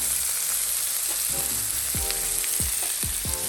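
Onion sautés on an indoor grill with a constant close sizzle, joined by several sharp scraping strokes of a utensil in the last couple of seconds; no one speaks.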